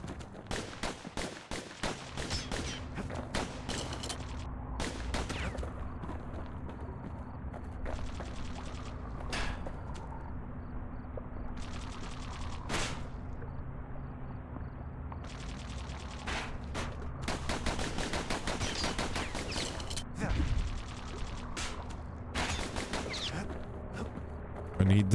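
Rifle gunfire in the video game Bastion rattles in rapid bursts of sharp repeated shots, loud and near, broken by brief pauses, with a voice talking intermittently over it.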